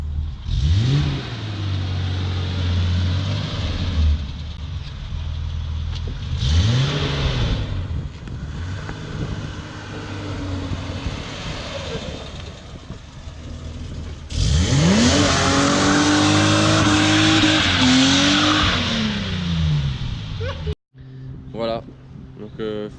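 A modified BMW E30 accelerating hard, the engine revving up through gears in rising sweeps, loud and close from inside the car, with someone talking over it.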